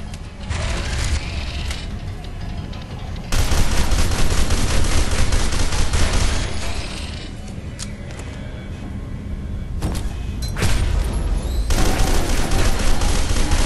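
Sustained gunfire in the shooter game F.E.A.R. 2: dense, continuous automatic fire and booming impacts that swell louder partway through, with mechanical clanks mixed in and no speech.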